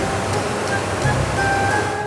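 Continuous rushing, churning water fills a factory cleaning machine as chili peppers are washed, a dense, steady wash of noise with no distinct breaks.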